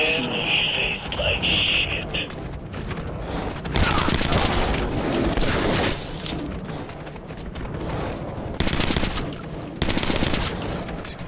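Gunfire in the video game Metro 2033 crackles in dense bursts of shots across the clip, loud and close, with mechanical clatter and booming impacts between volleys.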